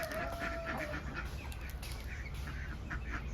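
Ducks, kept alongside Rhode Island chickens on a small backyard farm, quack faintly at a distance amid steady outdoor background noise and a mix of other fowl calls.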